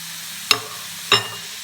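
Meatballs (bakso) dropped into a hot pan for mi titi, two sharp splashy sizzles about half a second apart over a quiet low kitchen hum, close up.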